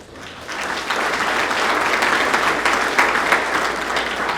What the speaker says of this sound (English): I only have 2 minutes, so y'all need to stop clapping